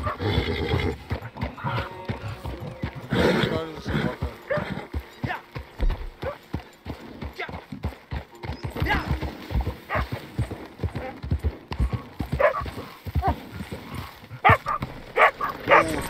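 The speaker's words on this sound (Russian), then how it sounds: "Собака, собака." A dog barks repeatedly in Red Dead Redemption II, mixed with horse hoofbeats, whinnies and game sounds, while players talk over it.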